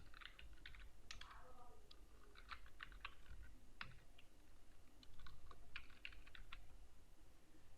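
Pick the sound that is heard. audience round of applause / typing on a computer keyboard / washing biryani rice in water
typing on a computer keyboard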